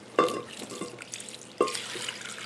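Water poured into a tray of gravel for a potted azalea, two short splashy pours about a second and a half apart with trickling and dripping between, close and moderately loud.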